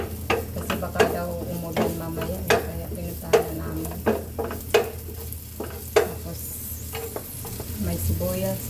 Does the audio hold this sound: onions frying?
yes